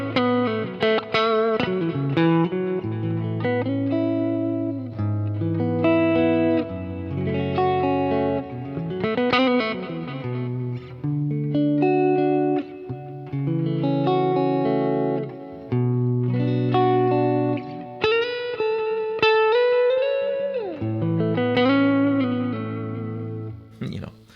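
A vintage semi-hollow electric guitar plays solo in a melodic phrase of chords and single notes, clear and close, with light effects and sustained tones and only short gaps between phrases.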